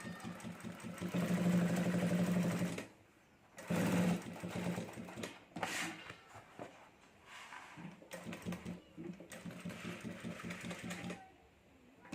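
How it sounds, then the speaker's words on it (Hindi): A sewing machine runs in bursts as it stitches a fiber sheet for a clutch purse, with a fast mechanical whir that stops and restarts several times in a quiet room. "ये फाइबर शीट है, इसलिए मशीन हमें स्लो चलाना पड़ेगा।"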